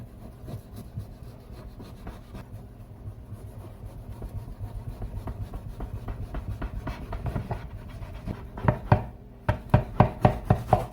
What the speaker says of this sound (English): after you get your fat all diced up and ready to go